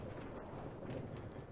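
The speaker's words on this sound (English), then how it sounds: "What if to, like, I bring the horse in the hotel?" Horse hooves clop along inside a Minecraft video game world, a steady run of soft, even hoofbeats under a dense, constant game-sound bed, with no talking.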